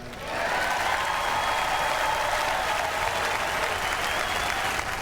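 A large convention arena crowd applauds Trump's acceptance speech, a broad, sustained roar of clapping and cheering that swells in and holds steadily throughout.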